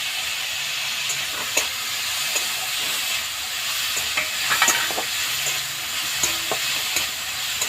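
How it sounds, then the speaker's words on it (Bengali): Chicken mince sizzling and frying in a pan for a homemade momo filling, with a steady hiss and repeated scraping stir strokes, close and fairly loud, no talking. "একটু এরকম নাড়াচাড়া করে এবার আর মধ্যে খানিকটা চিকেন কিমা দিয়ে দিলাম"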